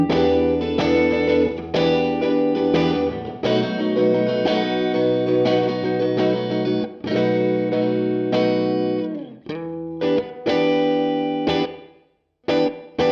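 Electric guitar chords and notes ringing out with a large, spacious hall reverb effect tail, played steadily for several seconds before trailing off with gaps near the end.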